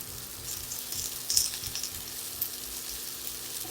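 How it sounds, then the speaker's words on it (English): Shallots, green onion, carrots and garlic sizzling in a hot pan while being stirred, a steady bright crackling hiss with occasional louder pops, close and constant. "And I'll mix this up for about another 2 minutes."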